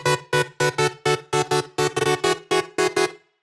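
Roughly a dozen sharp, evenly spaced percussive hits with a strong tonal body, played dry apart from a short reverb and a 52 ms delay, without heavy compression; each hit decays quickly before the next, loud and close.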